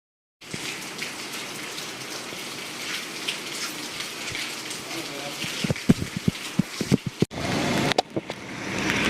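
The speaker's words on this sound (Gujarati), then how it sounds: "વરસાદ હજી એને ચાલુ જ છે સતત એટલો પાવરફુલ નથી આવતો બટ આમ ઝીણા ઝીણા છાંટા ચાલુ જ છે" Light drizzle of rain falling steadily around a vehicle on a bypass road in Junagadh, a constant soft patter with brief louder knocks and shifts near the end.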